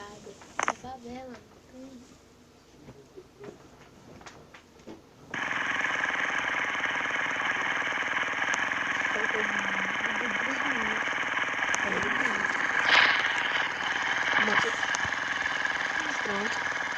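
A motorcycle engine from a mobile game starts partway through, a steady, loud, buzzing drone that runs without a break while someone talks over it, after a quieter opening with speech.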